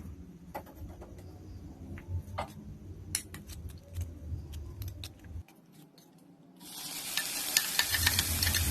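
Egg batter for Indonesian fuyunghai frying in a pan, a steady close sizzle with scattered clicks and stirring clatter, a short lull, then a louder, brighter burst of hissing frying toward the end.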